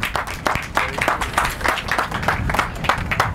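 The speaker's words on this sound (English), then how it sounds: "Everybody, a round of applause for Walter Williams." A crowd at an outdoor Earth Day event in New Orleans claps, with a rhythmic, fairly close patter of hands rising and falling in pulses rather than a smooth roar.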